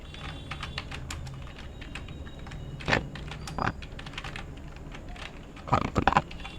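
Typing on a computer keyboard during a computer class, irregular close key clicks with a few louder clustered presses, heard alone without voices.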